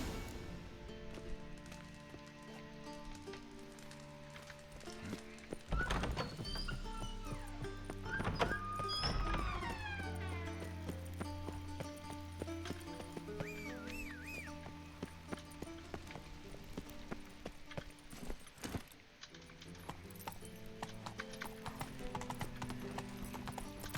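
Hooves of the horse Roach pound in a steady galloping clip-clop in The Witcher 3, joined by a neigh, thumps and other game sounds and music, continuing throughout at moderate loudness.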